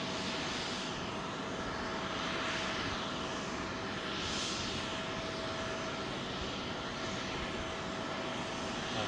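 Airliner taxiing at London Heathrow Airport, a steady whining engine roar with slowly swelling and fading high-pitched jet tones, moderately distant and continuous, with no voices.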